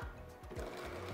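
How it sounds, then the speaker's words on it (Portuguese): A stand mixer runs at its lowest speed through sponge cake batter as flour is worked in, giving a steady, close motor hum with a regular pulsing beat throughout. "Agora é na batedeira, na velocidade mínima, ó."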